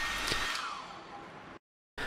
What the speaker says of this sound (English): Take a hairdryer and heat display surface for 1 or 2 minutes.